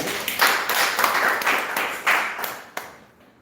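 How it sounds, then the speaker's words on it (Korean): An audience claps together for a few seconds at a Korean safety-education training session, a dense burst of hand claps that thins out and fades toward the end. "박수 한번 쳐주셔야 된다"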